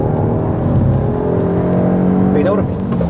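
Peugeot 308 GTi accelerating hard during a track day, a loud close engine roar and whir with a rising pitch toward the end of the short burst.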